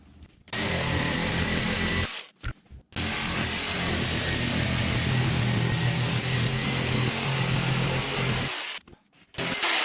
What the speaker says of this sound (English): I'm going to cut that with a jigsaw